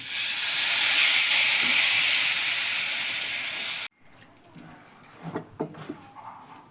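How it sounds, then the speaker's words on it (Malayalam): Water hits a hot pan of chilli powder for mango pickle and bursts into a loud, steady steamy sizzle for about four seconds, then cuts off, leaving a few faint clinks and knocks. "നമ്മൾ ഇച്ചിരി വെള്ളം ഒഴിച്ച് കൊടുക്കാം."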